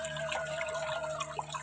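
Water pours from a PVC pipe strung above a river in the Sukabumi hills, a steady close splashing stream with a faint tonal trickle running throughout.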